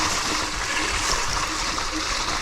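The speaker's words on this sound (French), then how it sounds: "je marche dans l'eau, c'est horrible." Footsteps slosh and splash through water and mud on a soaked trail ridden on an Ausom DT2 Pro enduro electric scooter, a steady wet churning spread across the whole moment, fairly close.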